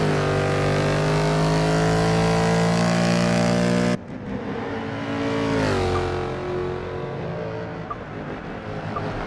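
Mercedes-AMG GT S Cup race car engine in Forza Motorsport 6 at Brands Hatch, a loud steady high-revving drone that drops sharply partway through, then rises and falls again as the car accelerates and shifts, with no talk over it.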